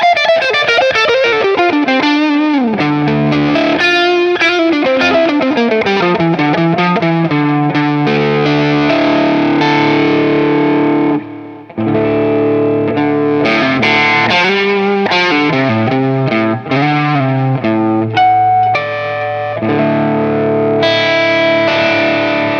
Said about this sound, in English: let's listen to that neck pickup.